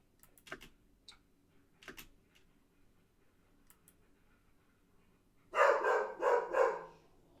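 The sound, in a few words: dog barking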